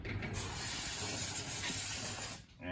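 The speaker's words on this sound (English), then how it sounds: "I'm just going to give it a bit of a spray out with the brake cleaner in here as well" Brake cleaner sprayed into the front wheel hub of a Landcruiser during a bearing repack, a steady close hiss lasting over two seconds that cuts off near the end.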